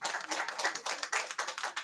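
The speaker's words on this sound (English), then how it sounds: "Yeah, a round of applause." People at a community ideas event clap, a short burst of uneven hand claps in a small room that rises and falls in quick pulses.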